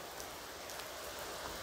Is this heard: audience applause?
no